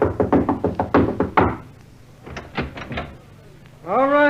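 Knuckles rap on the wooden paneling of a royal front door in a radio drama: a quick run of sharp knocks, a pause, then a few softer knocks before a voice starts.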